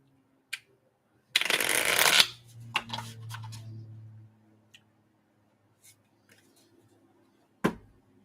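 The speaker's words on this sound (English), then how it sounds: "We're going to shuffle." A deck of playing cards is riffle-shuffled once in a quick burst, followed by soft card taps and handling clicks against a quiet room, a final sharp snap near the end.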